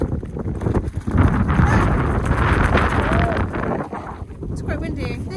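Strong wind and rain in Cornwall buffet the microphone in loud, rumbling gusts, roaring low and uneven, with a faint voice briefly audible beneath it.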